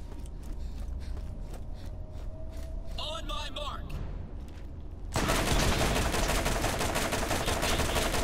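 Dense turret gunfire from the Borderlands Game of the Year Edition shooter erupts midway, a loud sustained barrage of rapid shots following quieter rattling game ambience and a brief mechanical whir.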